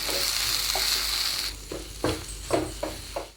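Chili, turmeric, garam masala and pepper powder sizzle in a hot pan, first as a steady hiss and then under a few distinct scraping stirs of a spoon, close and without voices.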